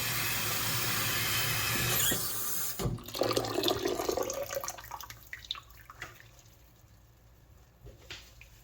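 Tap water runs steadily into a container for rinsing millet, a loud broadband rush for a few seconds before it softens into quieter splashing and trickles.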